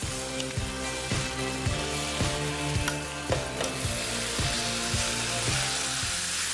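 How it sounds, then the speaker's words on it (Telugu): Shredded cabbage being tossed and fried in a tempering of oil and spices, a steady loud sizzle with regular rhythmic stirring scrapes in the pan throughout. "ఇప్పుడు ఈ తాలింపులో దీన్ని టాస్ చేసేసుకుందాం"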